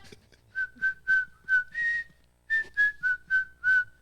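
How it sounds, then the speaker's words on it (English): A man whistles a melodic tune in clear, sustained notes, nine or ten phrases with a short pause midway, close and alone. "He's got a 4-minute track where he just whistles."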